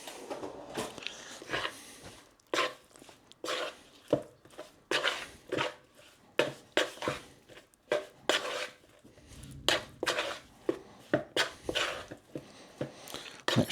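Pieces of pork being tossed and mixed by hand to coat them in corn flour, giving a run of close, irregular crunchy rustles and soft thumps with brief pauses between bursts.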